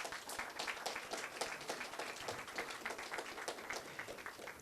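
A small crowd at a ribbon-cutting ceremony claps for a bank, a quiet, steady spatter of individual hand claps with no voices over it.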